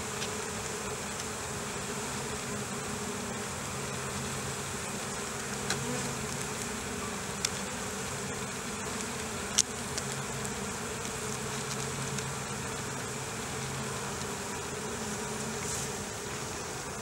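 Honey bees from a package colony buzz steadily around a hive of natural comb in deep brood frames, a dense continuous drone with a few faint clicks, moderately near and alone.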